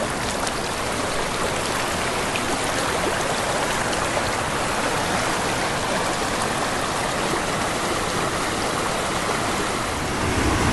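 Stream rushing over rocks in woodland at Reany Falls near Marquette, Michigan, a dense, steady broadband wash of flowing water that stays loud and unchanging throughout, close by, with no voices.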